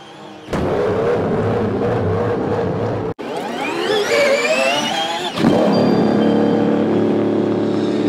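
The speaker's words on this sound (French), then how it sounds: "quand on entend le V8 atmosphérique de la Cadillac" A loud naturally aspirated Cadillac V8 race car engine roars close by, rising in pitch through rapid revs and gear changes, then settling into a steady throaty drone.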